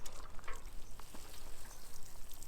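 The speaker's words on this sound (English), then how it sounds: "Same thing, we're gonna water that in." Water splashing and pattering onto soil around newly planted vegetable and marigold seedlings in a raised garden bed, a steady close spray that soaks in under no talk.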